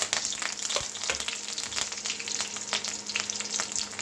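Curry leaves hit hot oil with browned garlic and cumin, crackling and sizzling loudly, with sharp pops and spitting over a continuous frying hiss, close up.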